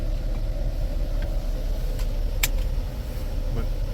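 A Jeep 3.6 engine runs steadily close by with a misfire, a continuous low rumble carrying faint irregular ticks and one brief sharp click partway through.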